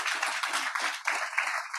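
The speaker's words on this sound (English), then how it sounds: "please, big applause for our panelists today for sharing and for coming here" Audience applause for the panelists at a startup demo day livestream, a dense steady wash of clapping from a crowd that carries on with little change for the whole couple of seconds.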